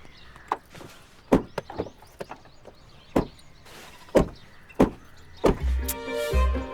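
A car is taken out while people climb in. Several sharp thuds, like doors shutting, land at irregular intervals, along with a few softer knocks. A vehicle engine rumbles up at the end.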